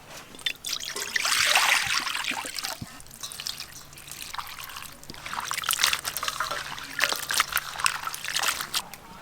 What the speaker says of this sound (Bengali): এইগুলো ভালো করে জল দিয়ে ধুয়ে নেব।